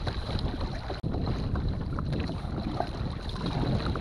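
A Viking Reload kayak paddled into wind and waves: a steady rush of wind buffeting the microphone blends with water wash, with no voices.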